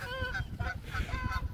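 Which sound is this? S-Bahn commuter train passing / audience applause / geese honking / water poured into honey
geese honking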